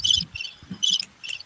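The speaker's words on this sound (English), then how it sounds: "I got crickets" Crickets chirp close by in quick, rhythmic bursts of bright trilling, several pulses repeating steadily with short gaps between them.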